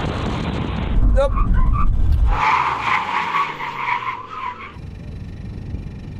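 Tyres screech as a car brakes hard in an emergency stop, first locking up, then pulsing as the ABS engages late. The skid is loud and near and fades as the car halts.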